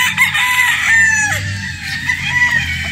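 A Sweater breed rooster crows loudly and close by, a drawn-out cock-a-doodle-doo with some clucking from other fowl around it.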